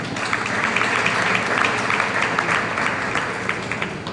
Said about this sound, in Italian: Vi diamo l'applauso